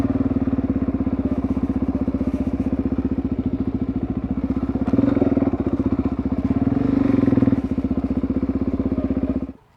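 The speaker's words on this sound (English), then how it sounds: "welcome to my new bike, the Suzuki DRZ400sm" A Suzuki DRZ400SM motorcycle engine idles steadily up close, its even, rapid thumping pulses holding a constant rhythm and swelling slightly louder midway before cutting off at the end; no one speaks.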